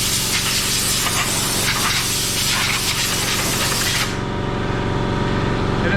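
Compressed air from an air compressor blasts dust out of a CF Moto ZForce 1000 belt housing, a loud, close, continuous hiss that shifts tone partway through as the nozzle moves.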